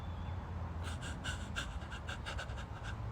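A person imitates a panting dog with quick rhythmic breathy huffs, about a dozen short bursts close to the mic over a low background hum.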